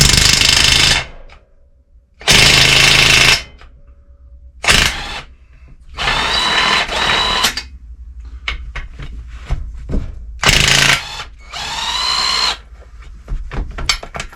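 Bursts of a power tool, likely an impact gun, removing the large cylinder head bolts from a Yamaha DT3 engine, several loud separate runs of one to two seconds with clanks and handling noises between them.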